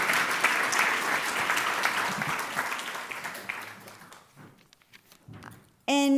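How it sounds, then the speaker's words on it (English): A seated audience at a North Carolina panel event on food access applauds the panelists, a fairly loud spread of clapping that gradually fades over several seconds before a short, sharp unrelated sound cuts in at the end. "Please give a round of applause to all of our panelists."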